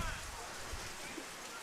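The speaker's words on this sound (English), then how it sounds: "this rain is really coming down" Heavy rain pours onto an outdoor baseball field as a dense, steady hiss that fills the background, fairly faint and continuous.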